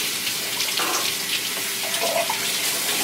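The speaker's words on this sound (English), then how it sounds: "They say you need to rinse down your meat, but you really don't." A kitchen tap runs in a steady, close rush of water into a sink while pork ribs are rinsed before barbecuing, the flow continuous and fairly loud with small splashy shifts.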